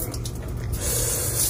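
Water running from a beach house outdoor shower at the door, a steady close hiss and spray that grows fuller and louder partway through.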